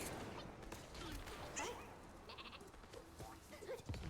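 Cartoonish sheep bleats fired from a sheep launcher in the video game Worms Rumble, a few quick bleats mixed with other game effects and clatter, fairly quiet overall.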